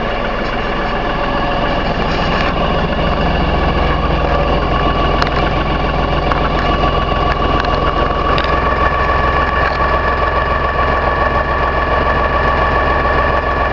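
A heavy diesel engine of an LS XR3135H tractor idles steadily nearby, a constant low rumble with a faint mechanical whine, and no one speaks.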